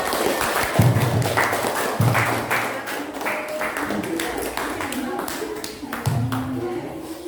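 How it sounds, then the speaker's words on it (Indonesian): Students in a junior high school classroom clap for a classmate, a loose, uneven patter of hand claps and taps with voices talking over and between them. "Beri tepuk tangan untuk Mirna."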